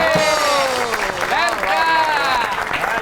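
Audience applause welcoming a comedian on stage at an Eid comedy show, a steady wash of clapping that runs throughout beneath a prominent voice or tonal sound.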